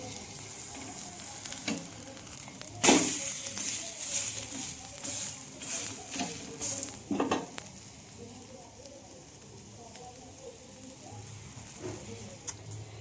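Food fries in a hot pan with a constant sizzle. A sharp clattering burst marks the flip, followed by several shorter scraping and stirring knocks as the sizzle carries on underneath.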